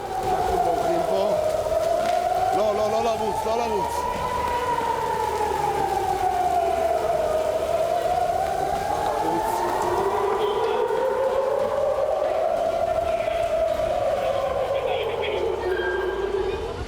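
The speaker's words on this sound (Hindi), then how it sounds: "फिजा में जंगी सायरन की खौफनाक गूंज।" A loud air raid siren wails continuously, its pitch slowly rising and falling in long sweeping cycles, with faint talk underneath.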